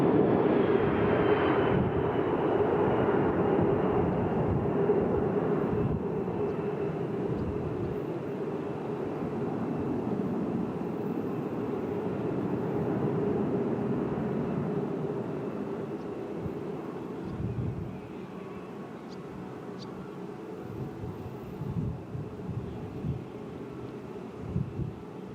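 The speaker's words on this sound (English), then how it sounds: "The aircraft now performing a go-around maneuver using maximum power to demonstrate its ability to depart an airport" Boeing C-17 transport aircraft at an air show performing a go-around at maximum engine power, a loud, sustained jet roar that slowly fades and gives way to wind and distant crowd noise.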